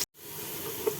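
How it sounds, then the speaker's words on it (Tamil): Onions sizzle steadily in a hot pan for quail biryani, a soft continuous frying hiss after a brief cut, close and fairly quiet. "இந்த வெங்காயம் நல்லா வதங்கணும்."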